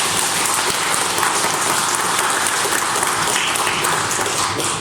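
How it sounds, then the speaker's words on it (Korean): A church congregation claps in dense, loud, continuous applause at a Sunday service, filling the space evenly throughout. "기쁨의 박수 한번 쳐주십시오."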